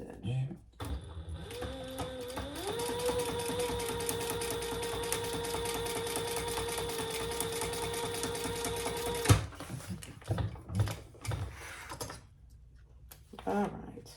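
Sewing machine running steadily for about eight seconds while top stitching a zipper sling bag, its motor whir holding a constant pitch before stopping, with someone talking before and after.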